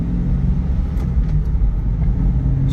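A 1996 Ford Mustang Cobra on the road, its engine a steady close rumble with small shifts in pitch as it moves through the gears, with no one speaking.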